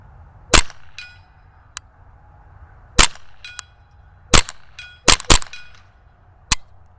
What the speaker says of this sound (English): I'll bring my mic in closer so you can actually hear the reset